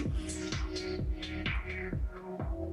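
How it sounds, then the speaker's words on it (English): A song run through a DJ mixer's low-pass filter plays on its own with a steady, thumping beat, its bass and kick prominent and its upper range muted and dulled. "So if we put a low pass on it,"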